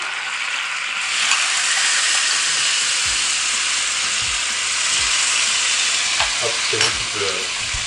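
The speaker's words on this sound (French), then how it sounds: "c'est le moment où tu vas pouvoir faire cuire tes protéines de soja, en tout cas leur donner un peu plus de consistance en les faisant bouillir" Soy protein chunks cook in hot pans for a vegan curry, giving a loud, continuous sizzle and bubbling hiss, close up, with a few soft knocks and scraping movements partway through.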